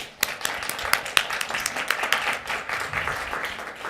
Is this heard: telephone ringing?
no